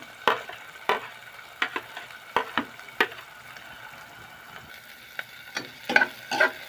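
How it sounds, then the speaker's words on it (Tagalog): Garlic and onion frying in a pan while cooking bangus fish steak give a steady low sizzle, broken by irregular sharp clinks and scrapes as a utensil stirs and knocks against the pan. "habang niluluto ko yung bawang sibuyas"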